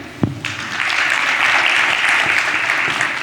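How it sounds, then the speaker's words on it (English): Audience applause at a conference on data storage and resiliency: a single sharp clap, then a full round of steady clapping from a large crowd swells and stays loud to the end. "let's once again have a big round of applause for Mr. Biswajit"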